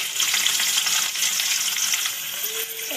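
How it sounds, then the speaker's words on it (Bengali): Thin-cut potato sticks fry in hot oil, a loud, dense and steady sizzle with crackling throughout, close up and with no talk. "এই তেলে এবার আলুগুলো দিয়ে দেবো।"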